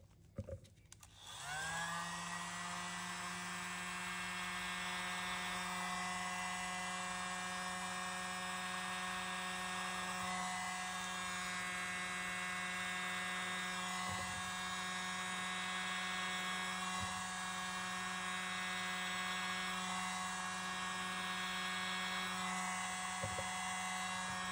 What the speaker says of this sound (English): I'm just going to blow that out with my little mini blower.